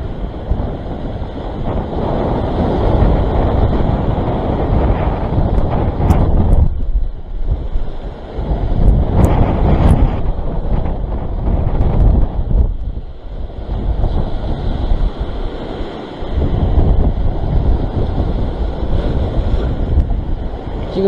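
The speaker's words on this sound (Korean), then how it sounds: "아, 바람이 너무 많이 불어." Strong wind roars over seaside rocks during float fishing near Sydney, loud gusty buffeting of the microphone mixed with crashing surf, surging and easing in waves throughout.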